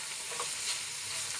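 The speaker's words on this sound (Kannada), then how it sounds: "ಫ್ರೆಂಡ್ಸ್, ಇದು ಒಂದು ಸ್ವಲ್ಪ ಫ್ರೈ ಆಗಬೇಕು." A Hyderabad-style fenugreek leaf gravy mixture fries in a pan, giving an even, continuous hiss of sizzling at moderate volume with no voices.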